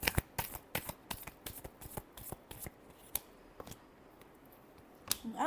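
Tarot cards being shuffled by hand in a quick run of crisp riffling bursts, close and fairly quiet, ending in a brief slide and flutter of cards.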